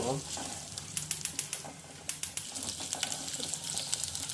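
Onions frying in a pan for a bhindi curry give a steady, close broadband sizzle, broken by a run of sharp spatula clicks and scrapes as they are stirred.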